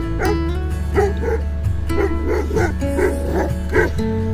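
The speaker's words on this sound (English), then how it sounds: "So, as the bison came by, Bear barked." A dog barks at a passing bison herd at Caprock Canyons State Park, a run of close, loud barks and yips recurring about once a second.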